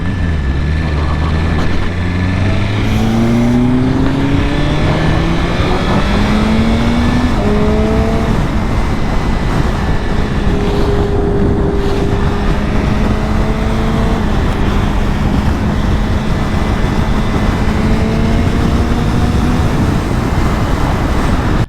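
A BMW S1000RR motorcycle cruises along a road, its engine a steady loud drone with rising and falling pitch as the rider shifts through gears, broad wind and road rush filling the background throughout.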